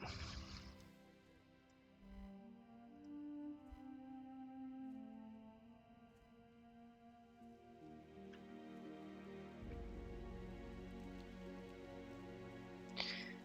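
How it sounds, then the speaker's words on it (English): Rain falls in the Hillsbrad zone of World of Warcraft Classic, a soft continuous patter with scattered drips under ambient game music and tones, quiet and steady throughout. "Raining in Hillsbrad always feels bad."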